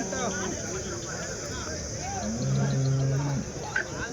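Cattle lowing amid the busy weekly Sunday cow market at Chintamani, with people talking throughout and a couple of longer moos standing out near the middle.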